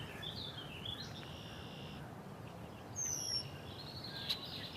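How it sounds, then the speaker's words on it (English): Thin, high red-winged blackbird calls and whistles ring out now and then over a steady low outdoor hiss, faint and distant. "You can hear the red-winged blackbirds with that cookery."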